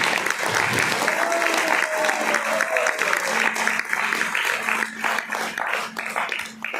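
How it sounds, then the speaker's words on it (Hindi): An audience at a live event breaks into loud, sustained applause for two honoured guests, the clapping dense and continuous, with a few voices calling out and a faint tone underneath. "मैं चाहूंगा इन दोनों लोगों के लिए जोरदार तालियां"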